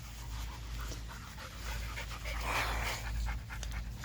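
A dog pants rapidly and steadily right up close, quick breaths over a low ambient hum, with no voices.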